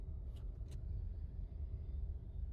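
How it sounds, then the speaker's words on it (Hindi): Cars idle and creep in a stalled traffic jam, with a steady low engine rumble that stays close and continuous throughout. "अभी हम जाम में फंसे हैं। कितना ज़्यादा ट्रैफिक है गाइस,"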